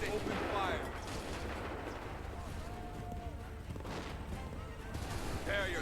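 Volleys of musket fire in the Assassin's Creed III game on Wii U crackle through a dense, noisy battle din, with muffled bursts rolling under game voices and ambient clamor.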